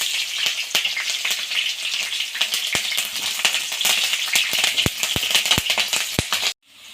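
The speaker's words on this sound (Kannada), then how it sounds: "ಸಾಸಿವೆ ಸಿಡಿಯೋ ಟೈಮಲ್ಲಿ ಜೀರಿಗೆ ಹಾಕಿ, ಹಸಿಮೆಣಸಿನ್ಕಾಯಿ, ಕರಿಬೇವು ಹಾಗೂ ಜಜ್ಜಿರೋ ಅಂಥ ಬೆಳ್ಳುಳ್ಳಿ ಹಾಕೋದು" Mustard seeds spluttering in hot oil with cumin, green chili, curry leaves and crushed garlic frying, a dense steady crackle peppered with sharp pops, close and loud, cutting off abruptly near the end.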